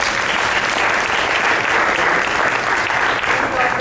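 Loud, dense applause from an audience at a food cooperative's annual meeting, many hands clapping in a steady, sustained roar that holds at an even level throughout.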